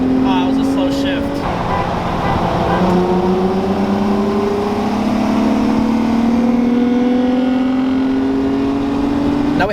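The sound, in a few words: manual G35 Coupe accelerating in a roll race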